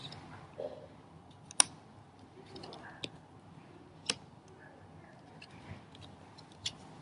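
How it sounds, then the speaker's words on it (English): Playing cards laid out one by one on a table during a tarot-style reading, giving soft scattered clicks and sharp little taps spaced a second or two apart over a quiet room background. "I'm just going to put out the cards"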